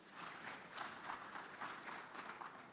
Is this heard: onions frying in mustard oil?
no